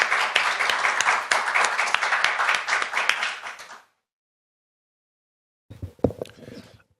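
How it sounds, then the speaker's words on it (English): An audience at a forum's opening ceremony claps warmly for nearly four seconds to welcome a keynote speaker, the dense applause then cutting to silence before a few scattered claps and handling noises. "Please welcome him with a big applause."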